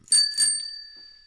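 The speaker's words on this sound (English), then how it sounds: "The bell just rang" Closing bell at the stock market, two quick bright metallic dings with a ringing tone fading over a second, no talk.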